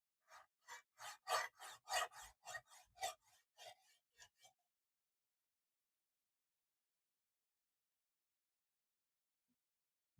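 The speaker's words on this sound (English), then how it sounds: "I'm trying to create a burr on the other side." A knife blade stroked against a sharpener to raise a burr: about a dozen quick, evenly spaced rasping scrapes over roughly four seconds, close and clear, then silence.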